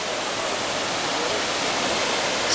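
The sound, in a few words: Edessa waterfall, Greece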